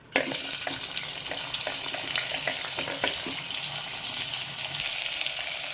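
Chopped onions are tossed into hot oil while cooking spicy quail thokku and sizzle loudly right away, a bright crackling fry that holds steady throughout without any speech.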